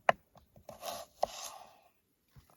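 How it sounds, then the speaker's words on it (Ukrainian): A Ganzo G771 drop-point folding knife cuts with a few short, crisp chopping taps and scraping slices, close and fairly quiet, separated by brief pauses. "І нарізати за рахунок цього гарно у нас виходить, бачите, ось як вона прилягає"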